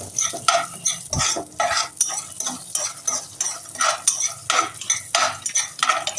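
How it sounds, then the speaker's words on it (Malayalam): Peanuts roasting in ghee in a pan, stirred briskly with a spoon: rhythmic repeated scraping and rattling strokes over a bright sizzle, close and fairly loud. "അപ്പോൾ ഇതുപോലെ തന്നെ കപ്പലണ്ടി വറുത്ത് കൊടുക്കുക."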